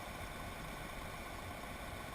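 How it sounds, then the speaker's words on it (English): Loader tractor engine running at a steady idle, a faint, even low rumble with a slight vibration and no change in speed, heard alone at some distance. "I decided to try driving in there with the loader tractor"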